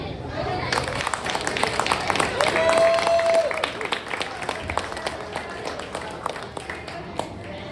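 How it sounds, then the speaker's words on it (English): An audience clapping after a poetry reading at an evening event, a dense burst of applause that swells and then thins into scattered claps, with a host's voice speaking over it. "Another round of applause for Todd Dillon"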